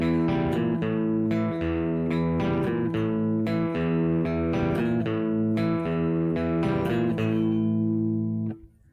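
Electric guitar plays the opening riff of a song, ringing picked notes repeating in a steady pattern for about nine seconds before being cut off.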